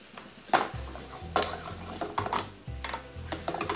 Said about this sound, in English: I'm just going to stir these all together. And we just want to let this red wine cook for just a few moments.